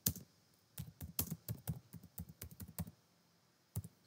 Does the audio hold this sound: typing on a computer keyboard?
yes